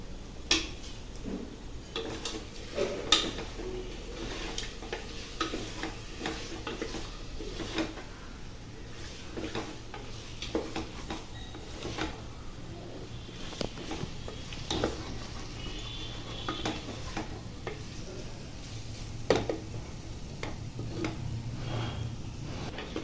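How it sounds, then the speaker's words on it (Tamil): Quail pieces stirred into masala frying in oil, with soft scraping, clinks of a spoon against the pan and a low sizzle running steadily underneath for the whole stretch. "இப்போ காடையை சேர்த்துட்டு அந்த மசாலா கூடால நல்லா மிக்ஸ் பண்ணுறது மாதிரி நல்லா கிளறி விட்டுக்கலாம்."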